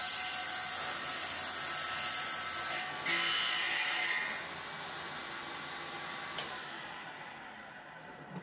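A circular saw fitted with a homemade crosscut sled cuts wood, giving a steady high whine for about four seconds before the blade load drops and it runs on more quietly, with a brief sharp click near the end.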